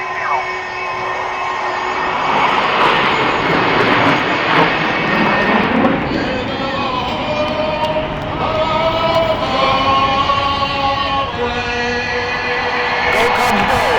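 A jet aircraft flyover on opening day at Wrigley Field, a loud, sustained engine roar with shifting whine that swells and fades over the ballpark, with crowd noise and voices mixed underneath.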